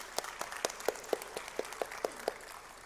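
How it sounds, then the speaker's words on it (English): Applause from a conference audience for the delegates, a sparse, fairly faint run of about ten distinct claps at a steady rhythm with no talk. "give a round of applause to all the delegates"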